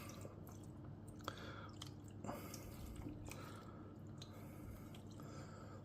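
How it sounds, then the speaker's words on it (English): Homemade juice mixed with water poured over orange chicken pieces, a steady wet trickle and soft squishing drips running continuously, close and fairly quiet. "now I'm gonna put on the juice that I made with the water. I'm just pouring it over like this"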